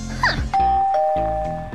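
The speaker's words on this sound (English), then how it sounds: "It won't stop ringing the doorbell." A doorbell in the Minecraft video game rings with a two-note ding-dong chime that repeats, the clear tones sustaining over a low hum, loud and close after a brief rising whine.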